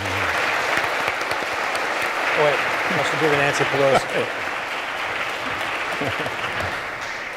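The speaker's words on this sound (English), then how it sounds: "right now, let's get all of our applause in for our 2 presenters" Audience applause at a live debate between Matt Dillahunty and Dr. Braxton Hunter as the presenters are welcomed. A dense, steady wash of clapping fills the room while someone talks briefly over it.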